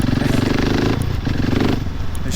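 A Husqvarna 701 motorcycle engine revs up close and loud, its single-cylinder thump throbbing steadily before the throttle briefly drops and then picks up again.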